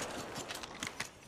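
Weapon reloading in Apex Legends Mobile: a quick run of sharp mechanical clicks and clacks, about four spaced taps over a second, set against a steady background hiss.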